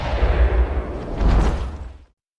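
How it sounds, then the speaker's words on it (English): A loud gunshot burst from a film fight scene, followed by a short rumbling decay that cuts off abruptly, with no talk. "John finished it with a final shot to Henry's head"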